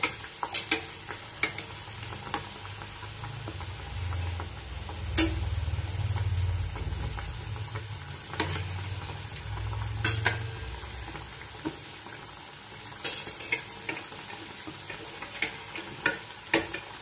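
Samosas deep-fry in oil over medium heat, giving a soft steady sizzle under occasional sharp clinks and scrapes of a utensil against the pan, close by with no talking.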